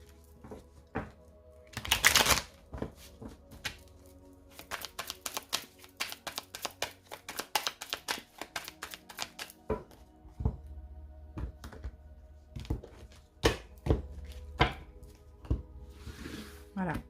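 A tarot deck is handled on a table in a continuous run of soft card taps, flicks and slaps, close and fairly quiet, with a rapid dense stretch near the start and a French-speaking voice talking throughout.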